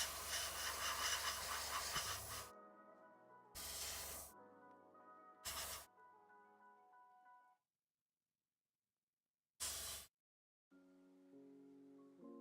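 Spray can of primer hissing onto a Warhammer 40k miniature in short close bursts, one long blast then several brief sprays separated by gaps, with faint music in the background.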